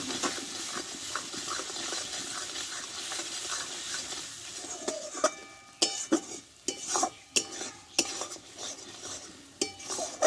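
Spices with turmeric and salt being stir-fried in a pan for a Bengali-style chicken dish, a low sizzle at first, then repeated sharp spatula scrapes and knocks against the metal pan in an uneven rhythm, close and fairly loud.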